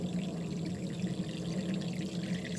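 Water pours steadily into a small model swale, a continuous close trickling flow with a low hum behind it and no talk.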